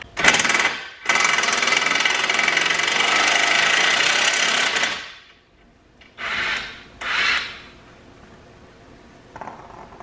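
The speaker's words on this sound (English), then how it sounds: "we're just gonna go ahead and remove those nuts, or remove the nut, the castle nut," Power tool removing the castle nut and bolts from a Hyundai Elantra ball joint: a loud sustained whirring run for several seconds, a short burst before it, then two brief follow-up bursts and a faint final blip.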